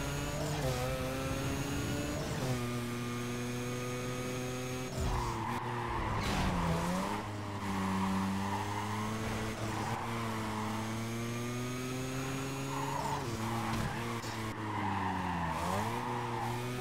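In Need for Speed Carbon, a car drifts through repeated long tire skids over a roaring, revving engine, with the pitch rising and falling across several slides.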